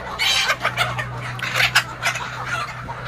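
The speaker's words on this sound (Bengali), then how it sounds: "দেখছেন মুরগিগুলো" Laying hens and roosters kept alongside goats on a small farm cluck and squawk in repeated overlapping bursts, fairly close, over a steady low hum.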